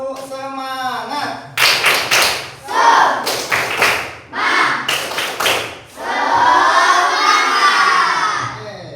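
A school class doing a rhythmic spirit clap routine: bursts of patterned group clapping and thumps, with children's voices shouting and chanting between and after the claps, sounding close and loud.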